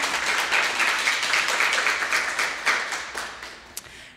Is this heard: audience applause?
yes